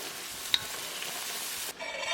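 Black tiger shrimp simmering in a creamy parsley sauce in a pan, giving a steady soft sizzle and bubbling with a brief utensil tick early on, then a quieter change near the end.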